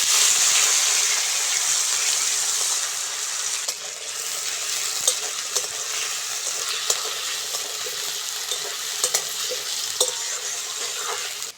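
Potatoes fry in hot mustard oil tempered with nigella seeds, giving a loud, steady close-up sizzle that eases slightly partway through, with faint spatula clicks scattered throughout.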